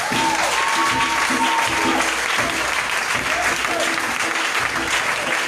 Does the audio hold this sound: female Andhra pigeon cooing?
no